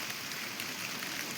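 Steady rain pours down in a village, a soft, even hiss of drops on surfaces that stays unchanged and fairly faint throughout.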